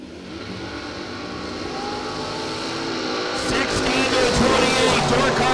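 Engine roar of a dragster in a drag race final round, with a loud broadband rumble that grows steadily over several seconds, under a race announcer's commentary.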